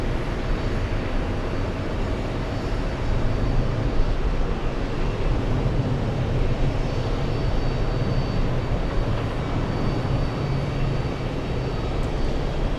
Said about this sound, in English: Lufthansa 404 flying in from Frankfurt